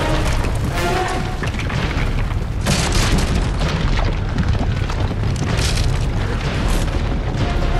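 Explosion destroying an ancient relic in the video game Uncharted 2: Among Thieves, a heavy booming blast with a rumbling, crackling aftermath that stays loud and dense throughout, a second surge hitting midway.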